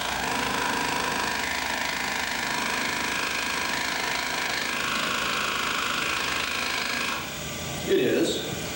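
An electric motor turns a drive shaft with input and output yokes set out of phase, giving a steady mechanical whir and hum that runs throughout, with a brief louder clunk near the end.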